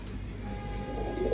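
Salara Teddy pigeons of a Pakistani bloodline, kept as a pair for sale, coo in low steady murmurs close by, with no talk over them.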